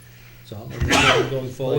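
A single sneeze bursts out partway through a public town board meeting, loud and abrupt, with a man's speech going on around it.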